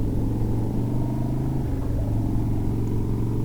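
A Harley-Davidson FXR motorcycle's engine drones steadily through a corner on a test ride, a loud low rumble with slight shifts in pitch and no talking.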